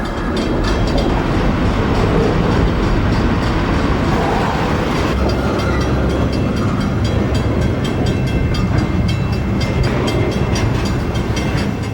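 A northbound intermodal freight train from Los Angeles, led by two Southern Pacific diesel units, rumbles past in the street, a loud, close, continuous roar of engines and rolling wagons with rhythmic wheel clatter throughout.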